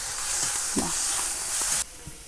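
Oil poured into a hot pan for a Kerala-style curry with curry leaves, a loud broad sizzling hiss that runs steadily and then cuts off abruptly, with a soft clatter midway.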